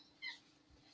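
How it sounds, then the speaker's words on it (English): A pet cat gives a single short meow, faint and brief, against a quiet room hum. "That's my cat."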